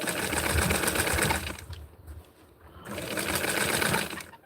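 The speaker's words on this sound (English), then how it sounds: "I'm going to sew it from this side so that I know that I have to go just a little bit" Sewing machine stitching a small doll shirt, running steadily and loudly, dropping to a brief pause mid-way before the motor whirs up again.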